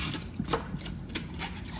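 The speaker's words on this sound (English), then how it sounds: "I rinse every bit of it, making sure all soap residue is rinsed off" A hummingbird feeder being rinsed under running water, with soft splashing and uneven gurgles as the water flows over the parts. Faint and close, no talking.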